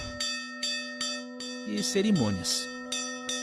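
A temple bell rings in repeated, evenly spaced strokes in a small Hindu temple at a Brahmin priest's home in India, each strike leaving a long sustained ring, while a voice talks briefly over the middle strokes.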